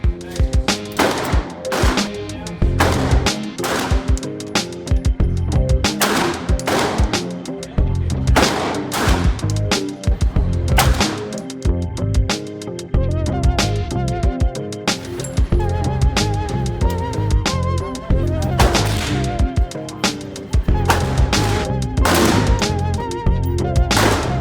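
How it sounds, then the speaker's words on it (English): Gunfire at an indoor or outdoor gun range, with loud close shots fired in rapid, irregular bursts that crack repeatedly over a continuous busy background for the whole stretch. "gonna go shoot some guns"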